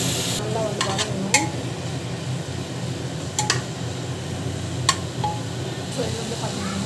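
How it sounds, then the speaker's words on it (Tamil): Mixed vegetables for a jackfruit-seed biryani stirred and sautéed in a pan, giving a steady soft sizzle with a few sharp clinks of a spoon against the pan; someone talks over it. "ஸோ இது வந்து பார்த்திங்கன்னா நல்லா வந்து வதக்கிக்கோங்க."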